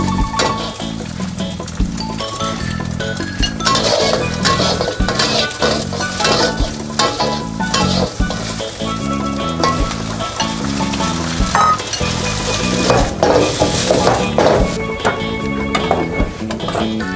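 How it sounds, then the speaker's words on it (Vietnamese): Shrimp pattaya frying in a pan, loud continuous sizzling with rhythmic stirring scrapes and occasional metal clinks of a utensil against the pan, close up with no talking. "này là đang làm món tôm chiên pattaya ở vậy"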